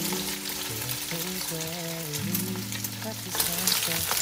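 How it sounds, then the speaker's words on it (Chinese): An egg stir-fried in a pan, a steady close sizzle with stirring scrapes, under background music. "打个蛋下去炒香"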